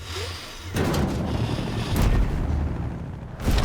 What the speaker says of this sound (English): the amp suit has to sound like the most massive cannon you ever